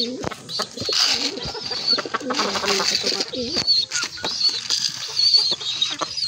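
Several pigeons coo close by in low, throaty calls, mixed with busy scratching, fluttering and pecking sounds around a coop. The sounds carry on without pause.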